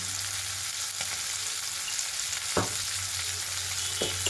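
Yam and shrimp sauté in oil with a steady, dense hiss of frying close by, and a few faint taps of a spoon against the pan now and then.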